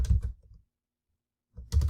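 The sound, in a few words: typing on computer keyboard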